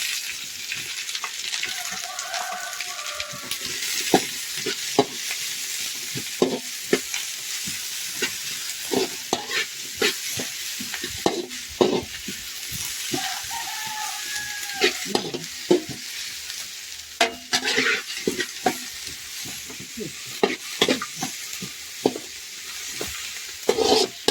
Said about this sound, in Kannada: ನೀರುಳ್ಳಿ ಸೋಪು ಫ್ರೈ ಆವಡು ಮತ್ತೆ ಕೆಂಪು ಆವಡು ಅಂತ